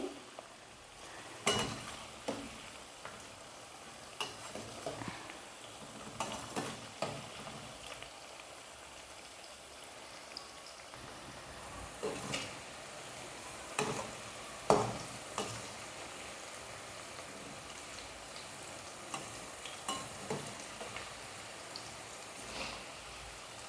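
Bitter gourd pieces frying in oil in a pan, giving a steady soft crackle with scattered sharper pops throughout and no voices.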